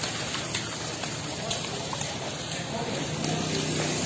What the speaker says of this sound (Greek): Η θάλασσα με την πλατεία Πυθαγόρα έχει περάσει τον δρόμο τον κεντρικό, έχει ανεβεί πάνω στην πλατεία Πυθαγόρα